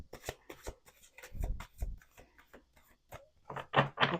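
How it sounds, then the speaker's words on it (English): Quick riffling snaps of tarot cards being shuffled, several bursts in a row with brief pauses, close and clear with no talking. "Let's do 2 more shuffles."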